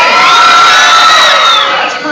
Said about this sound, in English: On the count of 3, give me your loudest scream.